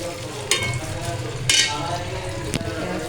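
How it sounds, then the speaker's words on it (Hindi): Onions frying in oil for an arbi baingan dish, a continuous sizzle broken by three sharper bursts as pieces are stirred or dropped into the hot pan. "हम प्याज फ्राई करेंगे इसके अंदर"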